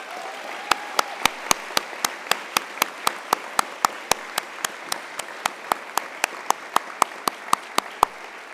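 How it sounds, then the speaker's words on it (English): Steady applause fills a university conferring ceremony hall, with loud, regular close-up claps from one person standing out over the softer, continuous clapping of the crowd. "I'd ask you to join me with a round of applause for Brona Clifford and the Conferring team"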